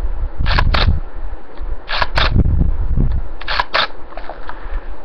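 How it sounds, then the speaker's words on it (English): Camera shutter firing at a slow shutter speed: three sharp, close releases, each a pair of clicks split by a short open gap, set apart by pauses over a faint background. "a slow shutter speed would be something like, this."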